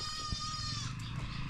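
Goat bleating on a farm in Ghana, a short wavering tremulous cry heard close and clear over steady outdoor background noise.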